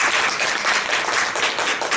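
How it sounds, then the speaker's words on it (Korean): Audience applause at a talk on YouTube creators, a steady dense wash of clapping filling the room for a couple of seconds without pause. "박수 한번 주시죠."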